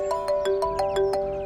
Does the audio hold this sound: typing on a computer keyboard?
no